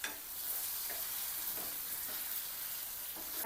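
Stuffed tomatoes in a spiced curry sizzle and fry steadily in a pan while being stirred, a continuous close hiss with soft scraping strokes of the spoon.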